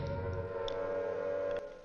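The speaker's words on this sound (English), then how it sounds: "once you hear the sirens, that's the sign that things are changing" Air raid siren from the horror game Silent Hill, a steady mournful drone that holds for nearly two seconds before cutting off abruptly, with no voices.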